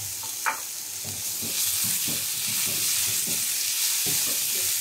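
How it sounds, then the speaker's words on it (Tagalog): Garlic sautéing in oil left over from frying tofu, a close, steady sizzle with repeated soft stirring strokes, no voices present. "Ayan, dito lang ako nag-gisa din sa ating pinagprituhan ng tokwa natin."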